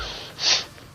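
A single forceful exhalation through the nose during bhastrika pranayama breathing practice, a short sharp whoosh of air lasting under half a second, close and clear.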